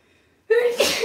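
A single loud sneeze bursts out abruptly after near silence during a live glute and hamstring workout session.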